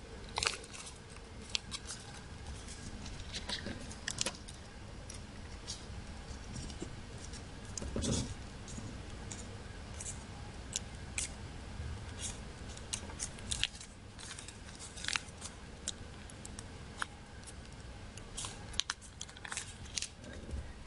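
Sheets of origami paper for a connected paper-crane model being folded and firmly creased by hand, a quiet, close series of crisp rustles and sharp pressing scrapes spread unevenly across the stretch, with no talk.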